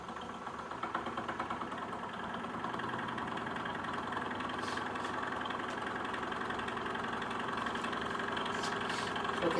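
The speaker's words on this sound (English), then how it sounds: "So I'm going to start driving this as a generator from our motor." A Peter Lindemann solenoid electric motor drives a small permanent magnet DC generator, giving a steady, close, buzzing mechanical hum with a fast pulsing rhythm that runs unbroken throughout.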